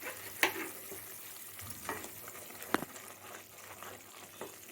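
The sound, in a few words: onion and gram flour curry boiling in pot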